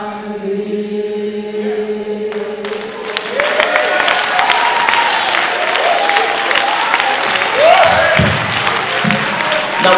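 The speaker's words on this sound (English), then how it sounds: "Now when you're done clapping" Gospel concert audience clapping and cheering after a live unplugged song, applause swelling in as the music ends and continuing loudly with scattered whoops and shouts from the crowd.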